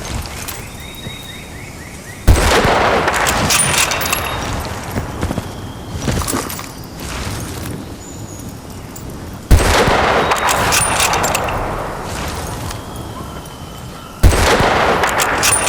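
Gunfire in the video game Battlefield: Bad Company 2 during recon sniping: three loud, sharp rifle shots spaced several seconds apart, each followed by a rumbling echo over constant battlefield noise, with no talking.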